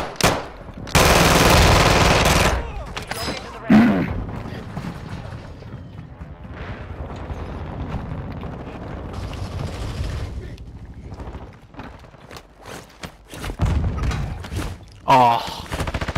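Gunfire in a Call of Duty video game: a loud sustained burst early on, then scattered shots and bursts at varying distance, with players talking over much of it.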